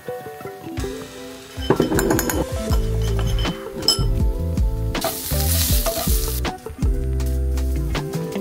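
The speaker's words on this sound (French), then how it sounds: "Courgettes que j'ai fait revenir à la poêle avec des épices." Courgettes with spices fry in a pan under background music, with light clinks of utensils and a brief burst of louder sizzling midway.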